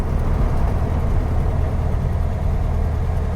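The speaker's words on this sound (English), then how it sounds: "I don't like lugging engines, but it's one of the ones I want to get into fourth as quick as possible to shut it up." A 1958 VW Beetle engine lugs at low revs while driving, a loud, close, continuous low rumble with a steady throb and no speech.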